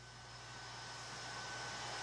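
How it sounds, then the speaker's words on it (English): A NASA airplane taxiing into a hangar at Ellington after a long flight from Kazakhstan, its engines producing a steady, loud roar that swells slightly over a couple of seconds with no voices. "Here now, the NASA plane pulling into the hangar out at Ellington."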